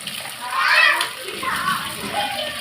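Dried anchovies are swished and rinsed in a bowl of water, giving close, irregular sloshing and splashing in a home kitchen, with a voice talking faintly in the background.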